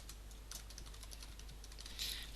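Rapid typing on a computer keyboard while naming a new folder, with quick soft key clicks in an uneven rhythm over a low steady hum, close and quiet, and no one speaking.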